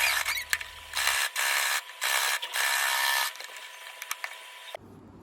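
A Singer SM024 sewing machine stitches through layered denim jeans fabric in several bursts of rapid, whirring needle action separated by short pauses, close and clear with no talk.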